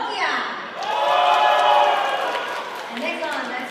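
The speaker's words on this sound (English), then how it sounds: "let us give our applause to Nokia" Dinner guests applaud at a 2026 Europe Day banquet, a broad, steady wash of clapping that swells and then eases over a few seconds while a voice talks over it.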